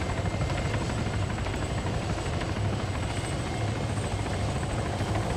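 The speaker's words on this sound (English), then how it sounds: "Let's get the chopper down. Yeah, it's landing." A helicopter landing in the video game Arma 3, its rotor throbbing loud and steady throughout with a constant engine whine, no talk.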